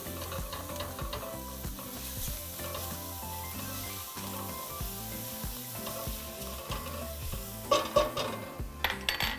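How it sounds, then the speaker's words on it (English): Minced garlic sizzles steadily in a hot oiled pan with stirring scrapes, followed near the end by a few sharp utensil clatters against the cookware. "after a couple minutes, we're going to add 2 minced garlic cloves"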